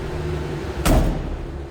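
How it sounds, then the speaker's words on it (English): A single short thud of a 1966 Ford F-100 truck door shutting, close by, over the steady low idle of its inline-six engine. "Door closes nicely."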